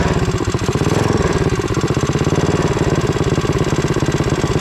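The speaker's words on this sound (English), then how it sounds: "engine's running awesome now" A repaired stage 3 engine runs steadily after a no-start fault, a loud close chugging idle with a fast even pulse and no voices over it.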